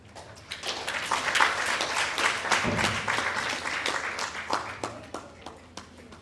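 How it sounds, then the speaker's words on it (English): Audience applause at a Girls For The Future Foundation event after a government minister is introduced, a dense, steady clapping that rises and fades, mixed with some cheering and voices. "Keep clapping."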